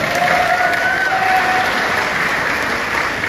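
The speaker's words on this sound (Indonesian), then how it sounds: "tepuk tangan buat beliau" A steady burst of crowd applause at a Jakarta political campaign rally, dense and sustained throughout, with faint cheering mixed in.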